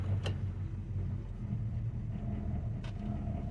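A 1969 Dodge Dart GT, revived after nearly twelve years sitting and still carrying a misfire, idles in hot weather as it is shifted into gear, giving a steady, close low rumble with a couple of faint clicks.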